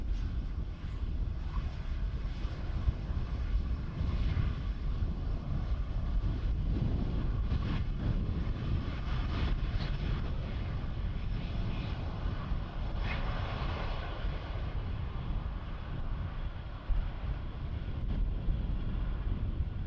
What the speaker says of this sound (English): Look at how small, how short the fuselage is of this little plane.